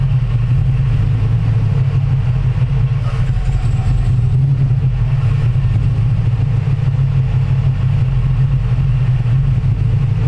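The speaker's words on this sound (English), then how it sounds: "this thing's still running just on pressure that's in the line" Car engine idling steadily with no fuel pump fitted, running on line pressure alone, a close, even low rumble that holds for the whole stretch with a faint tick near the middle.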